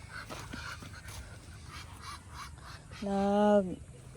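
A single loud, nasal duck quack rises out of faint outdoor background noise, close by and brief.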